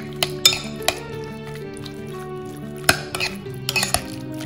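Spoon scraping and clinking against a bowl while chicken marinade with salt is mixed, with scattered sharp clinks among soft stirring noises and no talking.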